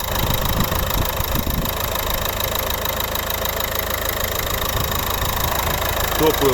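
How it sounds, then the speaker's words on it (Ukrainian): A 2011 Nissan Qashqai 1.5 dCi diesel engine idles steadily with an even, low knocking rumble and a constant mechanical hum, close by, with brief speech underneath. "Ось робота двигуна. Рівно тихо."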